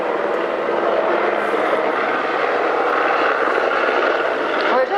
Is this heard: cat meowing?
no